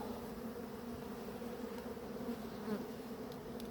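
A steady, droning hum of many honeybees buzzing close by at a hive, continuous and low, with occasional individual bees passing nearer.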